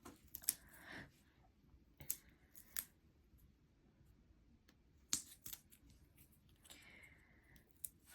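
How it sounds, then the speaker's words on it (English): Foam tape being torn apart by hand for a die-cut card, heard as several short, sharp ripping and crackling bursts spaced out over quiet background, close and fairly faint. "I'm just going to take some foam tape and I'm just going to rip it in half."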